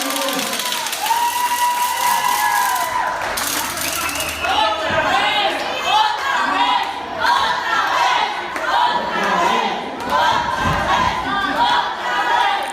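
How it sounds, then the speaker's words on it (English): A wrestling crowd in Los Angeles at a lucha libre show chants loudly in rhythmic bursts calling for one more, with shouting and cheers filling the hall and an announcer's voice running over it. "Crowd here in Los Angeles calling for otra vez, one more, do it again"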